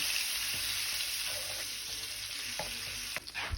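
Butter melting in oil in a pan sizzles steadily and close, a dense continuous frying hiss with a few faint clinks of stirring throughout.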